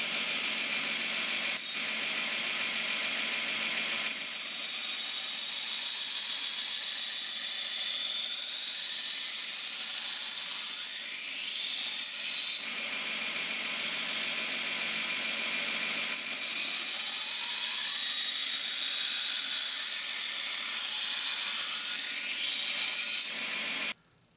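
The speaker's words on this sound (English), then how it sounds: "we start the first grind on the other side of the blade" A grinder hisses steadily against the edge of a chef's knife blade being made from old scythe steel, a loud continuous bright grinding with rising and falling passes, close up and alone before stopping abruptly.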